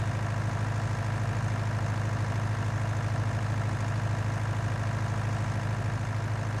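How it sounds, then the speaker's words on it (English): A small tractor engine in Farming Simulator 19 labours steadily uphill, a continuous low droning hum holding at an even, loud level throughout with no talk over it. "Especially since this hill is not cooperating with my little horsepower. My wee little tractor."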